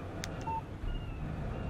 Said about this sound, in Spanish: Un mensaje de texto de Barry.